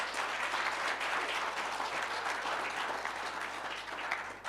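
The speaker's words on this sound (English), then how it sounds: "Can you give a round of applause?" An audience at the inauguration of a board of directors and executive committee gives a steady round of applause, dense and sustained throughout with no pause.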